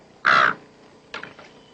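In a film scene set at a roadside hotel, a crow caws twice. The first call is loud and harsh, and after a pause a fainter, broken second caw follows.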